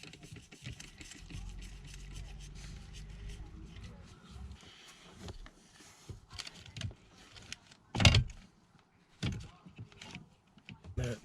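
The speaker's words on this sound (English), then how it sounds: "Now we'll remove that last screw." The last screw is removed from the seat motor assembly of a BMW E60 5 Series, with a long stretch of whirring power-tool noise followed by scattered clunks and knocks, one sharp thud standing out.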